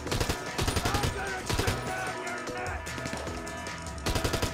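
Gunfire in the video game GTA during a raid, rapid bursts of shots and volleys crackling loudly throughout, with a final flurry at the end.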